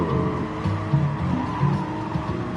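A Porsche GR3 race car at Willow Springs in Gran Turismo 7 drones steadily at high revs, its engine note rising and dipping with brief tire squeals mixed in, close and loud.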